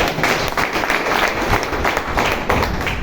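Dense audience applause, loud and close, a continuous wash of many hands clapping that holds steady throughout with no break.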